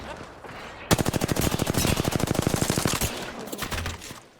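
A rapid burst of automatic gunfire in Apex Legends, about two seconds of evenly spaced loud shots close by, followed by a few scattered rounds, with faint voices underneath.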